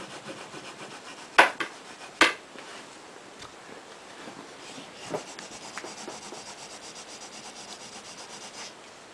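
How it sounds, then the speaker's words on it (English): Old rag rubbed along a Flemish-twist bowstring, close soft scratchy friction with a couple of sharp knocks early on, then steady rasping strokes. "I'll lay that rag on that flemish and rub that."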